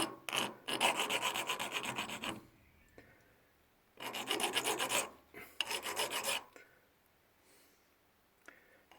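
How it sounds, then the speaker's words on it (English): A hand file rasps across a Phillips screw head in two long bursts of steady back-and-forth strokes, close and loud, with quiet gaps between them. "I'll just file the"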